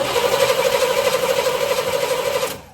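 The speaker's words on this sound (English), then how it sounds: "gonna start turning it over, and Sean's gonna see if the fuel pump is sucking" A Chevrolet El Camino that has sat for eight years is cranked over with a suspected bad fuel pump. The starter whirs in a rapid, rhythmic churn, loud and close, for about two and a half seconds without catching, then stops.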